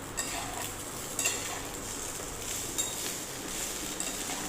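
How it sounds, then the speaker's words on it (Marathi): Tur dal dumplings (phunke) stir-fried in a pan with onion and green chilli, a steady broad sizzle with occasional light clinks of a utensil against the pan, no talking. "अशा प्रकारे फुणके हे परतवून घ्यायचे आहे"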